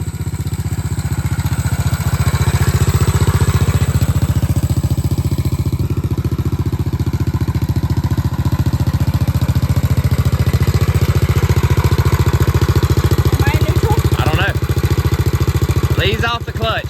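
A vintage Honda XL250 dual sport motorcycle engine runs loud and close in a steady, throbbing idle for the whole stretch, with a few clatters near the end.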